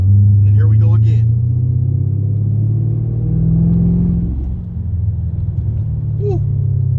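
Steady low engine rumble from a Mercedes CL550 driving and cornering on hill roads, loud and continuous throughout, with brief voice sounds near the start and again toward the end.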